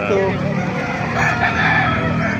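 Chickens fill a busy coop at a market in Calumpit with clucking and a rooster crowing amid the noisy flock, close and continuous.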